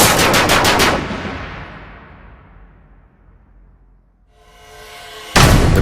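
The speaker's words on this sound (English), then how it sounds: "The Browning fires around 6 bullets a second." Browning machine gun on a Spitfire firing a rapid burst of loud shots that ring out into a long decaying echo, followed by a second abrupt loud burst at the end.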